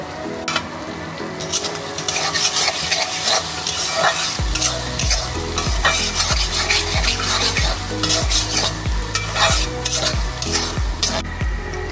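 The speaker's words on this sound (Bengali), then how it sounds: "এরপরে দিচ্ছি ছোট 1 চামচ ঝাল লঙ্কার গুঁড়ো দিয়ে আবার এটাকে কষিয়ে নেব।" Chili powder and spices sauté in hot oil for a bhetki fish curry, with a steady close sizzle and rhythmic stirring scrapes in the pan, set against background music.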